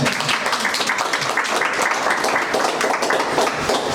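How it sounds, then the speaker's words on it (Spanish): An audience applauds the team at a community museums and decolonization exhibition event, dense continuous clapping filling the room at a steady, loud level. "otro aplauso para el equipo."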